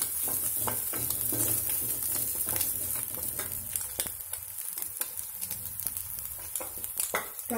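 Half a cup of carrots stir-frying over a high flame for Chinese egg fried rice: a steady, close sizzle with scattered sharp crackles and spatula scrapes, no talk.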